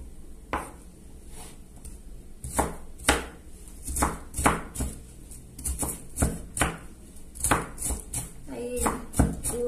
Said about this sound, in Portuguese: cebola picada. Vou picar ela. Na verdade, eu pico em rodelinha e sai quebrando o resto.